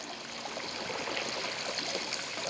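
Creek water, swollen by heavy rain after a storm, spills steadily over a small waterfall, a constant close rushing and splashing wash with no voices.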